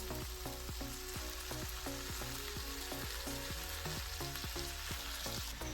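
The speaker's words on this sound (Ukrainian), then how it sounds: "Далі додаємо перець, помідори, цибулю і капусту і смажимо ще 3 хвилини" Steady crackling sizzle of peppers, tomatoes, onion and cabbage frying in a pan, with regular soft scraping or stirring knocks underneath and a faint background music bed.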